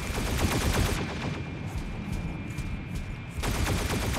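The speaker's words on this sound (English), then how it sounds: "Incoming fire." Incoming gunfire in the mech combat game Mech Arena on a dockyard map: dense, rapid automatic fire at close range, briefly thinning to scattered shots before a heavy burst resumes at the end, with no talk.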